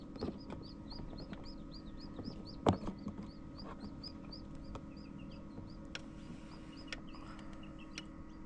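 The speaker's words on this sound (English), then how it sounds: "Really is amazing to watch these little chicks hatch." Newly hatching chicks, including a frizzle, peep in quick high repeated chirps close by over a constant low hum, with an occasional soft knock.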